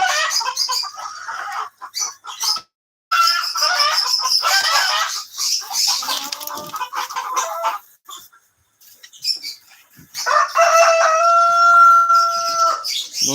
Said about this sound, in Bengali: বন্ধুরা, আপাতত এই হচ্ছে আমাদের কালেকশনের মুরগিগুলা।